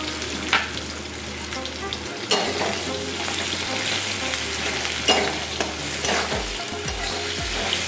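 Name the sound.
pumpkin pieces and bay leaf frying in oil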